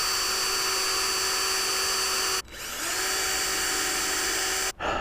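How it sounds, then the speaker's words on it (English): Power drill boring pilot holes while LED lights are installed on a RuckusClip, a loud steady high-pitched whine running alone and cutting off briefly twice as the trigger is released. "and then drill pilot holes."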